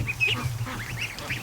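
Muscovy ducklings in a barn, several little peeps and chirps scattered through a low steady rumble, fairly close and moderately loud with no one talking.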